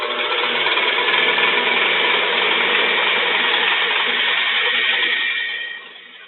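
An electric mixer beats heavy cream on high speed, giving a loud, steady whirring drone that holds for several seconds and then slows and fades near the end.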